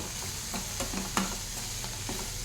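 Green chillies and shredded cabbage fry in oil while a spoon scrapes and stirs the pan, producing a steady close sizzle broken by regular knocks and scrapes.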